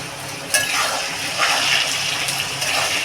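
Coriander and cumin powder go into a hot pan for a rita fish and potato curry, with a steady soft sizzle and scraping stirs throughout, close and alone with no talk.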